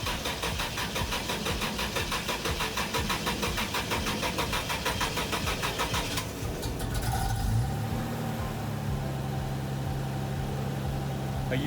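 A 1988 Toyota FJ62 Land Cruiser with a very flat battery cranks with a rapid rhythmic churn for several seconds, then its engine catches and settles into a steady idle, close and loud, without talking.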